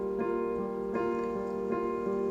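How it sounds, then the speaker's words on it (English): A song plays with only the bass part isolated, a steady sustained low line with a few soft, evenly spaced note changes at moderate level and no voices. "Let me isolate the bass."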